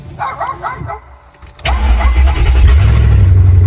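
A Mercedes-Benz car engine cranks with a few quick whirring turns, pauses, then catches and roars to life, settling into a loud, rough idle close by.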